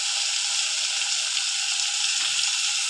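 Tomato, capsicum and green chili fry in a hot pan with onion and garlic, giving a steady, close, continuous sizzle with no talking and a faint soft stir near the end.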